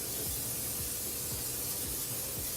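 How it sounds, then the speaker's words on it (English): Cooking spray hisses onto a large metal sheet pan in a kitchen, a continuous close, airy spray lasting a couple of seconds with no talking. "and you're going to need some cooking spray."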